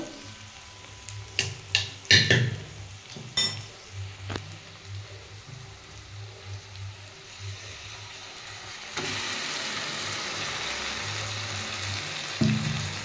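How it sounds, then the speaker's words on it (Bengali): Moringa leaf and onion paste is tipped into a pan of fried onions: first scattered utensil clatters and stirring over a soft fry, then a loud, continuous sizzle surges up and holds. "সজনে শাকের পেঁয়াজ দিয়ে বাটাটা বেটে রেখেছিলাম মিক্সিতে, ওটা আমি এবার দিয়ে এর মধ্যে ভাজবো"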